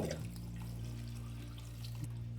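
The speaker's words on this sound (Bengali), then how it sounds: "ব্যাস এই স্টেজে আমি এখানে দিয়ে দিচ্ছি পরিমাণ মতো জল।" Water poured into a pan of egg curry masala cooked dhaba style, a steady close trickle with a low constant hum underneath and no talking.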